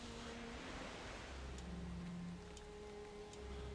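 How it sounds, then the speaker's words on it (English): Rain falling in the survival game Valheim, a steady, even wash of hissing drops at moderate distance, continuous and soft, with faint low ambient tones underneath and no speech. "There's the rain."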